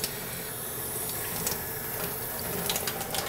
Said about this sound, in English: we're going to need 2 teaspoons of hot water